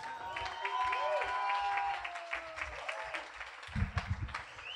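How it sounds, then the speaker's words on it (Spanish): A live comedy-show audience applauds the guests, a steady wash of clapping through most of the stretch that swells louder near the end, with a host's voice talking over it. "Fuerte el aplauso para Luiki Wiki, por favor, gente"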